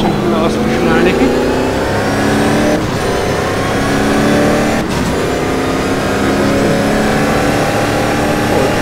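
A race car in the GTR Evolution racing game on the Nürburgring GP circuit accelerates with a loud, continuous engine drone and rising revs, steady throughout with brief gear-change dips.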